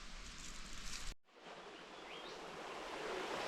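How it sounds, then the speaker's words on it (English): Water falling in a creek in the Watagans bush gives a soft, continuous rushing hiss, faint and distant, broken by a brief dropout before resuming steadily. "I can hear some water falling"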